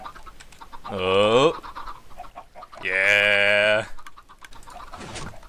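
Chickens in the Minecraft video game, in a Skyblock world, give two loud bursts of clucking and squawking, each lasting about a second, with a voice speaking briefly around them.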